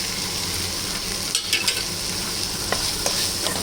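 Tomatoes sautéing in a pan for fish gravy give a steady close sizzle, with a few soft spatula scrapes and stirs breaking through near the middle and end.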